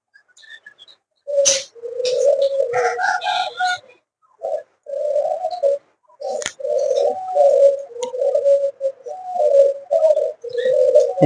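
A pigeon held in the hand coos in close, repeated low rolling phrases, almost continuous, with a few brief higher squeaks and rustles mixed in.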